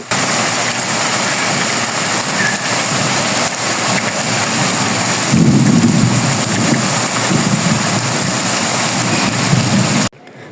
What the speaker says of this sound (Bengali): আর এত বৃষ্টি মনে করো চার পাঁচ দিন ধরে বাহিরেও যাওয়া যেতেছে না